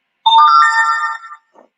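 A phone ringtone plays one loud, close, bright electronic melodic phrase lasting about a second, then a faint short tail after a brief pause.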